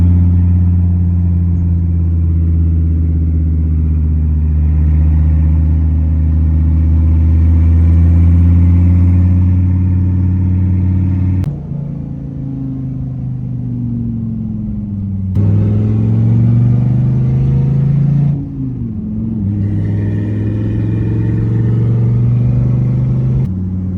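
A convoy of supercars pulls away toward mountain roads in Jebel Akhdar, Oman, with loud, close, deep engine rumble and revving that rises and falls as the cars accelerate and shift, several engines overlapping with no talk.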